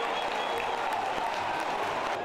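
Football fans at a Brazilian cup match applaud the team at the end, a steady, dense clapping from a large crowd, close and continuous throughout.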